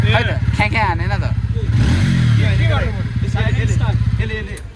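A TVS Ronin 225 motorcycle starts quietly and idles with a low, steady engine hum, and the revs rise slightly near the middle while someone talks over it the whole time.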